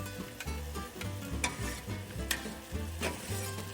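Onions frying in a pan, a steady close sizzle with occasional soft stirring scrapes and light knocks, no voices.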